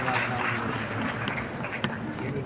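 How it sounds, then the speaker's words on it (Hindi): Sustained crowd applause at a Patna award ceremony honoring top exam students, a dense, steady clapping wash filling the hall without pause. "जोरदार ताली"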